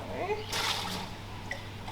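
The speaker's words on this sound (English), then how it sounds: "just going to get a little bit of the warm water." Warm water splashes and sloshes briefly into a container in a kitchen where a cake is being decorated, faint and close, with a little talk behind it.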